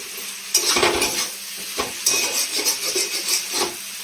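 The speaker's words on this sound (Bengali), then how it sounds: "দিয়ে এটা এবার ভালো করে একটু ভাজতে হবে।" Bread pulao with sugar fries in a pan while a spoon stirs and scrapes it, giving close clinks and scraping strokes over a soft sizzle.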